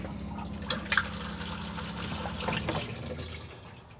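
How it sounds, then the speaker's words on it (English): A Thetford cassette toilet flushes in the washroom of an Auto-Trail Tribute F60 motorhome, giving a steady close rush of running water that lasts about four seconds and fades at the end. "And then blue button to flush."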